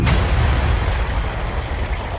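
A bomb detonates inside a jet airliner's cargo hold during a test at Bruntingthorpe, giving a loud, dense roaring blast that rumbles on and slowly fades.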